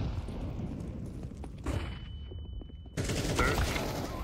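Muffled gunfire in a CS2 match fought through smoke, with bursts of rapid shots breaking out amid steady game noise, a quieter stretch, then a louder volley near the end.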